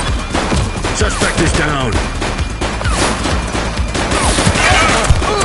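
Police gunfire during a shootout in a video game: a continuous, dense barrage of overlapping shots with voices shouting throughout.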